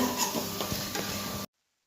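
Brief, close sizzle and crackle of tempering spices hitting hot oil for kadhi, with a little stirring noise, cutting off abruptly after about a second and a half.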